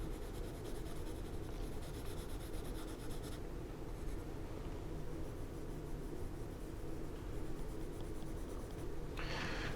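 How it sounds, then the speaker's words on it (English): A pencil shades a drawing of a house on paper with a steady, dry scratching that runs close and continuous throughout. No one speaks. "you're turning your pencil so it doesn't flatten all on one side"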